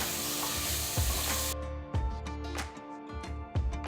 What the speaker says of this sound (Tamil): இப்போ பொடுசா நறுக்கின ஒரு தக்காளியை சேர்த்து வதக்குங்க.